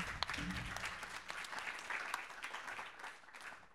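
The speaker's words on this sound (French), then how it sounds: "je crois qu'on peut vraiment vous applaudir pour votre participation" A seated audience at a patient-focused round-table debate bursts into applause, a quiet, fairly distant patter of many hands that holds steady for a few seconds, with a faint low hum at the start.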